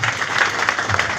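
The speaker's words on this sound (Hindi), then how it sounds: "तालियों से स्वागत करें इन सबों का। वाह वाह, ताली बजाओ" An audience at a Nishad Party convention applauds in welcome, giving a brief burst of dense, continuous clapping from many hands at close range.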